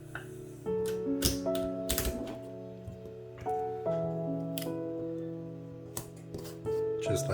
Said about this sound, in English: I'm going to use some tape to tape the images together so they won't move.